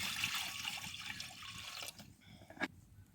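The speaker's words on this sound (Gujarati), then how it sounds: "નાખી દઈશું પાણી" Water splashing and pouring steadily into a pot on the stove for garlic curry, a soft continuous rush with a couple of sharper clinks near the end.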